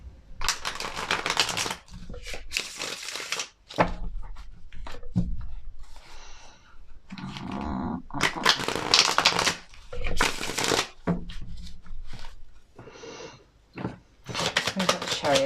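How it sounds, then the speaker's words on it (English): Tarot cards are shuffled by hand in repeated riffling bursts, close and crisp, separated by short pauses over about fifteen seconds, with no talking. "I'll just give these a shuffle."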